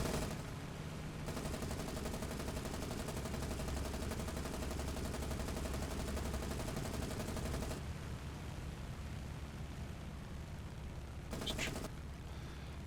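Sustained anti-aircraft gunfire rattles continuously against a lone bomb-carrying fighter plane in the naval combat game War on the Sea, a dense steady barrage for several seconds before cutting off, followed by quieter rumble and a brief later burst.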